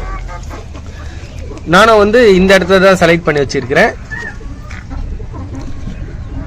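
Free-range country hens clucking and squawking in a dark egg-laying corner, a burst of loud, close, rising calls lasting about two seconds amid someone talking throughout.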